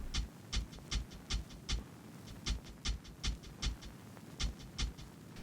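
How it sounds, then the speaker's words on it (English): Dry, unprocessed main hi-hat from a sample-based boom bap beat made in FL Studio, playing a quick busy pattern of short bright ticks in small groups over a low-end rumble. "Then we have the main hat without any effects."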